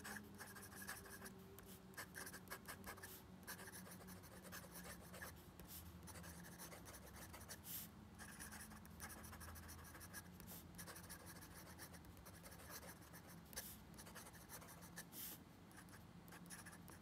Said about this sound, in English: My handwriting just feels so messy with this super big broad nib.